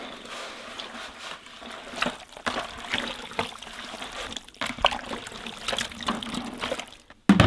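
A marinade of garlic, apple cider vinegar, olive oil and salt is mixed by hand, wet sloshing and trickling liquid sounds in irregular bursts, fairly quiet and close.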